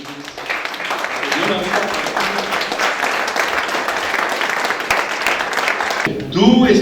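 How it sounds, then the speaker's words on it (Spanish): A church congregation claps rhythmically for several seconds, a dense steady patter of hands filling the space, with a voice breaking in near the end. "Pues dale palmas al Rey de Reyes."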